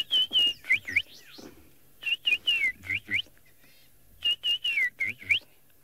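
A rattling cisticola, a small passerine bird, calls in three bursts of sharp whistled chirps followed by quick rattling notes, near and fairly loud with quiet gaps between phrases, in an African safari setting.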